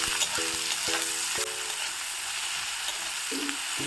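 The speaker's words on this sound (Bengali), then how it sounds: "এবার একটু নাড়াচাড়া করে নেব" Onions frying and being stirred in a pan for a mushroom dish, a steady sizzle running throughout with a few brief knocks and scrapes of a spoon against the pan.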